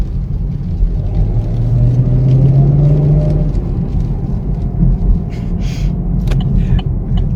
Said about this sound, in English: my favorite part about this Camaro is the sound is so amazing